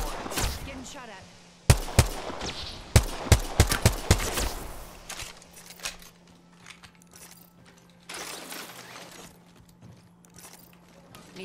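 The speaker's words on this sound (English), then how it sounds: "Getting shot at." Gunfire in the Apex Legends video game, a cluster of sharp shots and quick bursts early on, then quieter mechanical game sounds with faint distant shots later.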